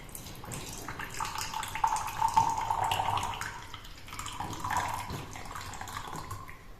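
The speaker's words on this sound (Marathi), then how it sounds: "आपण पाणी इथं साईडला काढून घेतो आहे" Water is poured off a silage sample being checked for pH, a steady trickling and splashing pour that swells and eases over several seconds, fairly close and with no voices.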